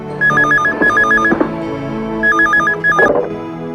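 An office telephone keeps ringing in a Hindi film scene, with two pairs of warbling ring bursts that sound loud and close over quiet background music.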